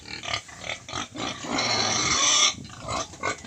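A native pig squeals and cries loudly up close, with short grunts followed by a long, shrill scream and then more clipped squeals. No voices are heard.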